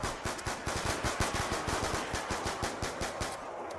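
A pistol fires rapidly into a zombie horde in the Black Ops 2 zombies mode at Bus Depot, a steady stream of quick sharp shots, roughly six per second, close and fairly loud with no voices.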